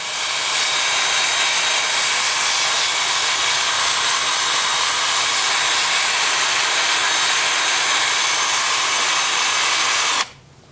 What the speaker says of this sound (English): Speaking of which, time for sanding.